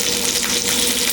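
Gyoza dumplings pan-frying as the water cooks off, a brief, loud, steady hiss and sizzle close by.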